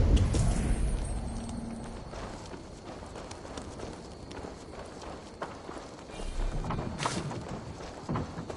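A horse's hooves clip-clop in Assassin's Creed Valhalla as steady, fairly close footfalls. Brief outdoor ambience sits behind them, with a louder thump at the start.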